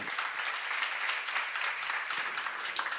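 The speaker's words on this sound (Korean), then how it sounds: "내 생각보다 낮은 곳에 가 있어야 높아지는 길이 열리는 걸 믿으시고 박수 주시기 바랍니다" A church seminar congregation claps together, a dense, even burst of applause that fills the space without pause, moderately loud and evenly sustained.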